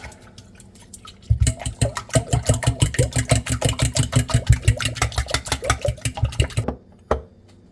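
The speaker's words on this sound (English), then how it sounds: "And now what I'm going to do is whisk this up." A fast whisk beats an egg mixture seasoned with Italian spices in a bowl, a quick even rattle of clicks up close for several seconds, then stopping with one last tap.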